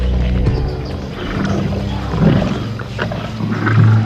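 Lions give out deep, rumbling growls and low roars that swell and fade in several heavy bursts, loud and close over a wild outdoor background.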